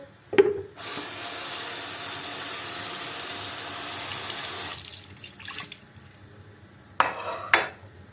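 Water gushes steadily from a kitchen tap over vegetables being washed for several seconds, then stops, followed by a few clattering knocks and splashes nearby.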